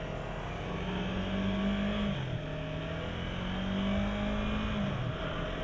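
A 2015 Yamaha R3 motorcycle accelerates onto a freeway, its engine note climbing steadily through the gears with a brief dip at a shift, close and continuous under wind rush.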